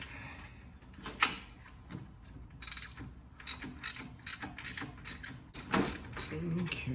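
A wrench ratchets on the lower mounting bolt of a car alternator, with quick bursts of clicking and metallic clunks at irregular intervals, close by, and a brief spoken word in the middle.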